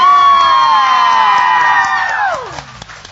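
A crowd of fans loudly shrieks and cheers to welcome the performer at a music show. The sustained scream swells at first, then trails off and fades in the final second.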